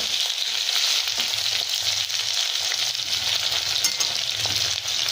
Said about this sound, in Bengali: এখন আমি আলুর মধ্যে বড়িগুলো একবারে ভেজে নেবো